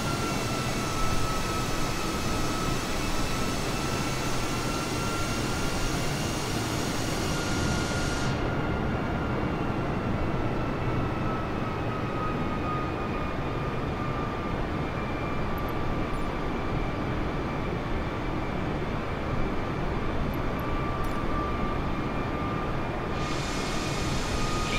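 An Airbus A320 in Microsoft Flight Simulator 2020 gives off a steady, droning engine roar with a faint high whine on top, unbroken and even in level for the whole stretch, with no voices.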